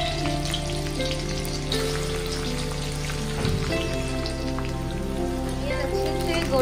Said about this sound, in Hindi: अब हम इसमें अनियन डाल देंगे, जो मैंने 4 बारीक काट के अनियन रखे हैं वो डाल देंगे